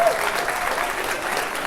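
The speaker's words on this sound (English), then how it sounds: "I just want to give him a round of applause as well" An audience gives Jesse a round of applause at a leadership talk: steady, dense clapping from a full room that carries evenly through the moment, with no voices over it.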